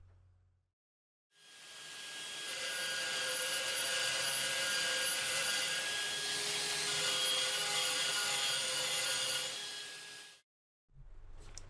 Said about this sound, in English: To start the die grinder, move the latch forward and press down with the thumb.